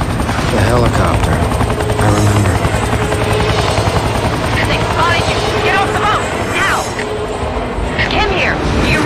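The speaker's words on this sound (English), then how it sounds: "The helicopter." A helicopter's rotor in the game XIII thrums steadily throughout, mixed with game effects and other noise, loud and continuous.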